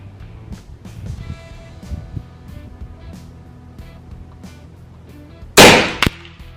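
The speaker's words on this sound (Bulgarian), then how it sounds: "Трети изстрел." A single sharp report from an FX Dreamline Power Pup 5.5mm air rifle, near and loud, with a brief echo just after, rising out of a low, quiet background.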